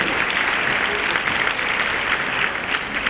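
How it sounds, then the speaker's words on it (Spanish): Steady applause fills an audience hall at a 25th anniversary ceremony, dense and continuous from start to finish without pause. "Pues un aplauso también para Juan de Lucas, que querría haber estado"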